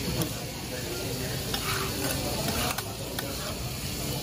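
Food sizzles steadily on a hot griddle at Dohtonbori, a constant hiss with a few clinks and scrapes of stirring mixed in, close by and with no voices.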